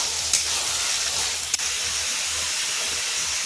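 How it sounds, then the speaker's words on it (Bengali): Meat fries in a pan after garlic, a steady hissing sizzle with a couple of brief spatters or clinks, and no one talks. "মাংসটা একটু ভেজে নেব।"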